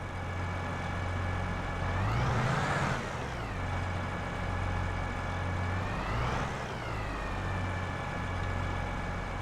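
Articulated tractor on dual wheels in Farming Simulator 22, a steady loud engine drone with two rising and falling surges as it revs, running alone with no talk.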